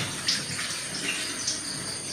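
Water runs steadily from a hose or tap into a home fish tank during cleaning, a continuous close splashing hiss with small gurgling bursts and no voices.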